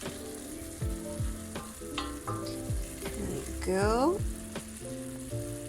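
Prawns fry in a hot pan with a loud, steady sizzle, while stirring adds scraping and clattering close by and a brief word is spoken over the cooking.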